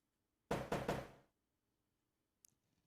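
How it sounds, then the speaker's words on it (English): In the video game Rocket of Whispers, a door is banged three times in quick succession with heavy, loud thumps, then a faint click follows in near silence. "Door banging."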